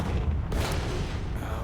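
Enemy artillery fire in the video game World of Tanks Modern Armor, with a heavy booming impact hitting about halfway through, over a constant low engine rumble and a softer thump near the end.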